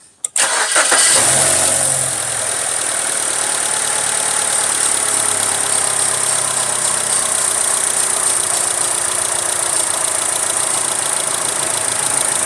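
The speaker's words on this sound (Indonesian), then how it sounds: "Coba sekali lagi cranking test." A BMW engine turning over during a battery cranking test, a brief crank that catches and settles into a steady loud idle hum with a faint knock, heard up close and without talking.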